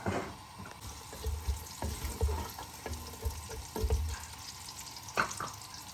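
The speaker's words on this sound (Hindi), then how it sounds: "ये इसको सौटे करेंगे, फ्लेम थोड़ा सा खोल देंगे" Minced meat qeema sautéing in a pan over a raised flame, a steady close sizzle broken by repeated scraping and stirring knocks, with no talking.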